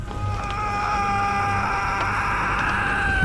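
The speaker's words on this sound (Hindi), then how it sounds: "जंगल की खामोशी को चीरती हुई एक भयानक चीख गूंजी।" A terrifying, drawn-out scream rings loud and shrill through a silent forest on a rainy night in a horror story, wavering over a low steady background with no speech.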